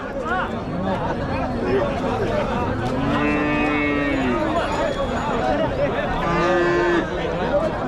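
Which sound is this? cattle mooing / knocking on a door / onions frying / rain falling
cattle mooing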